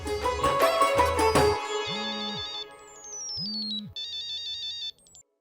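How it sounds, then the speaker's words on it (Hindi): A phone ringtone plays for an incoming call, a loud melodic electronic tune with repeating bright tones and a falling sweep, running steadily for about five seconds before cutting off. "तुमने मुझे फोन की?"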